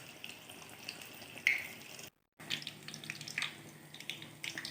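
Banana fritters (pazhampori) frying in hot oil, a steady soft sizzle and crackle close by with a sharper pop near the middle and a brief silent break partway through.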